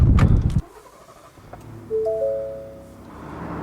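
A Ford F-150 truck starts with a brief cranking burst, then settles into a running engine with a few electronic chime tones as it begins to move, heard close with no talking.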